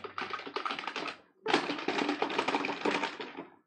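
Rapid typing on a new gaming keyboard, dense overlapping key clicks in two bursts separated by a brief pause, close and fairly loud with no talking.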